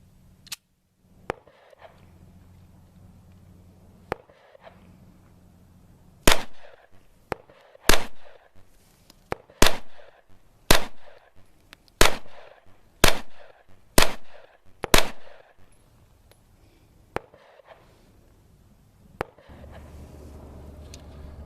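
A German Luger P08 pistol firing 9mm rounds, sharp loud single shots, a few spaced ones then a steady string of about eight at roughly one per second, followed by a couple more scattered reports.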